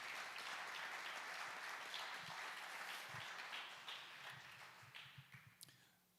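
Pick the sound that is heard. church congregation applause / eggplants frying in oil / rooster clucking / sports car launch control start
church congregation applause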